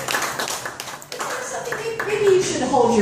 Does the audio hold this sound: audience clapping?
yes